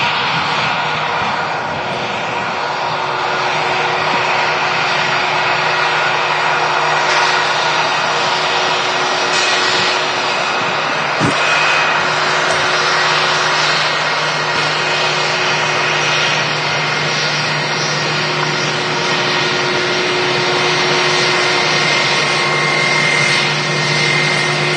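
A Sun Express Boeing 737-800 jet arriving at Manchester Airport, its engines a loud, steady roar that holds throughout with a constant tonal whine and no voices.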